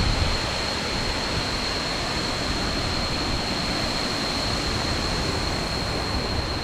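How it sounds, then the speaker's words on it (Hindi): Steady, broadband roar of the Wachirathan Waterfall in Thailand, a dense continuous rush of falling water with spray, loud and unbroken throughout with no voices. "इस वाटरफॉल का जो नाम है वो है ये वाची राथान वाटरफॉल।"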